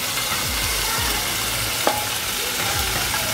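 A sauce of pepper, onion and chili for sea bream cooks in a pan, giving a loud, steady sizzle with periodic low stirring scrapes and one sharp knock.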